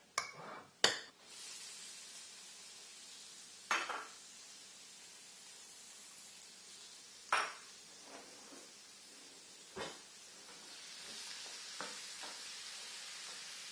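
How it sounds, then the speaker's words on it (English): Onions, carrot and celery sautéing in a pan, a soft steady sizzle with occasional clinks and stirring scrapes, close but quiet. "the onions, carrot, celery that are sauteing in the pan right now"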